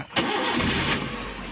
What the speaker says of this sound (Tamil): இப்போ இன்ஜின் ஆன் பண்ணுற பாருங்க.